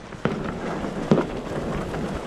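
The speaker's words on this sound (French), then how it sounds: "on a un petit peu d'artifice" Fireworks at the start of a mountain ultra trail race, two distant cracking pops over a dense crowd murmur.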